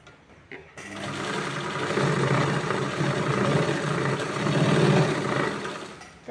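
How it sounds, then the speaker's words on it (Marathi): A sewing machine stitching cloth for a baby's cap runs after a short quiet start, whirring steadily for several seconds, close and fairly loud, then slows at the end. "या बंदावर थोडीशी दोन तीन वेळा टीप मारून घ्यायची आहे"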